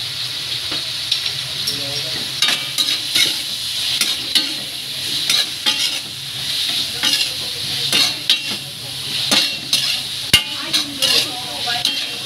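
Bangus in sweet and sour sauce stirred in a pan, with steady scraping and clinks of a utensil against the metal over a soft sizzle, close and continuous with irregular strokes throughout.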